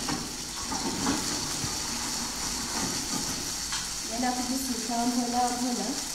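Food frying in a pan, a steady close sizzle and hiss with faint stirring, joined near the end by a voice speaking over it.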